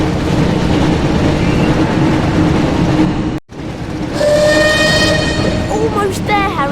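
A train rumbles loudly through a tunnel in the Harry Potter and the Chamber of Secrets PS1 video game, with a brief dropout midway, then the rushing noise returns alongside rising whistling tones.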